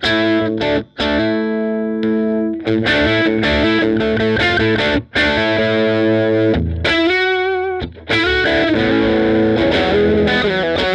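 A boosted Gibson SG Les Paul from 1960 with Seymour Duncan pickups plays loud distorted chords and sustained notes, with brief pauses between phrases and a wavering bent passage near the end.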